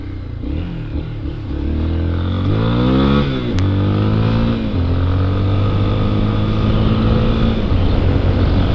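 Honda XRE motorcycle riding with a worn rear tyre, its engine loud and close, revving up and down in rising and falling sweeps before settling into a steady drone.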